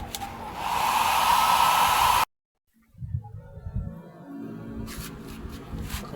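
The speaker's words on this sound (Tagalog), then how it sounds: "I-blower ko lang muna siya para matuyo." A hair blower drying a freshly painted eyeglasses frame, a loud steady whooshing roar for about two seconds that cuts off abruptly, followed by quiet handling and faint rustling.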